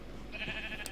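Sheep bleat in the Minecraft video game, a short faint cry rising in the second half over a low steady background hum, with a brief higher blip near the end.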